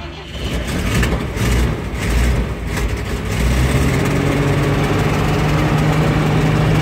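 A 1981 Chevy K10 pickup truck engine sputtering and then settling into a rough, steady idle close by, with no talking heard.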